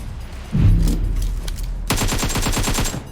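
Rapid automatic gunfire in the mobile battle-royale game PUBG Mobile, a dense burst of repeated shots following a low boom, loud and close with no talk over it.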